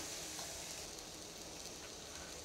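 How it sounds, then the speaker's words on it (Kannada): Dal and sambar powder fry in hot oil, giving a steady, even sizzle with a fine crackle that holds at a soft level throughout, with no voices. "ಫ್ರೈ ಆಗಿ ಸ್ವಲ್ಪ ಆಯಿಲ್ ಬಿಟ್ಕೊಬೇಕು"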